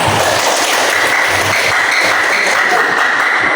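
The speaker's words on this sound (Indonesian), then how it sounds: "Tepuk tangan buat kelompok 3." Steady broadband applause from a classroom group of teachers during a training session, a dense continuous wash of clapping filling the whole stretch at fairly loud, even level with no pauses.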